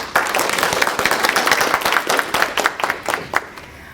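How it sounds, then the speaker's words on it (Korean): An audience at a Chinese-language lecture gives a burst of close, dense clapping that holds steady for several seconds, with individual claps standing out near the end as it thins. "자, 다 같이 박수로 시작해보죠."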